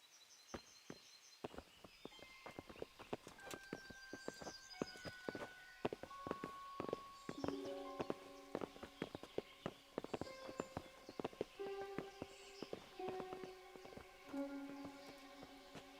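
Horses' hooves clip-clop in the Kingdom Come: Deliverance video game, a quiet irregular run of sharp knocks alongside soft tonal game sounds and a few faint chirps.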